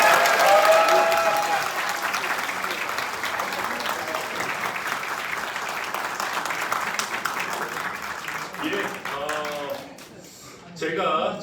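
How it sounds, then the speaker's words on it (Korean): Audience applause at a Korean political party rally, loud at first then sustained as a steady wash of clapping, with a speaker's amplified voice breaking through near the end. "큰 박수로 다시 천하람 대표 모시도록 하겠습니다"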